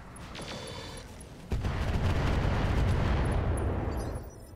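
Artillery fire in the mech strategy game RogueTech: a quiet lead-in gives way to a sudden loud blast that swells into a sustained rumbling roar before fading.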